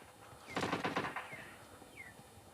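Rapid automatic gunfire burst in PUBG Mobile Lite, roughly eight quick shots over half a second, moderately distant, followed by fading echoes and a couple of faint whistling chirps.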